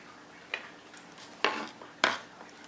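A knife roughly chops vegetables for keto shrimp zoodles, giving a few sharp, close knocks on the board, irregularly spaced, with quieter taps between them.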